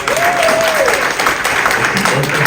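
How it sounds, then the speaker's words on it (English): Applause from a seminar audience welcoming a speaker at a real estate office event, a loud continuous burst of clapping, with a brief faint whistle-like tone rising and falling early on. "Let's give him a huge round of applause."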